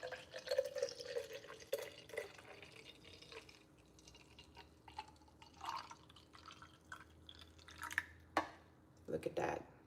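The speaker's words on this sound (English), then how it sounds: "Okay, time to pour this morning green juice. So now we're pouring." Green juice being poured into 17-ounce bottles, with soft trickles, drips and splashes interrupted by faint clinks of glass, all quiet and close.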